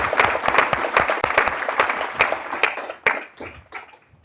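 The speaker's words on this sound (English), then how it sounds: "Let's give him a round of applause first." An audience claps after a talk at an entrepreneurship and innovation institute event, loud dense applause that stays full before thinning into scattered claps at the end.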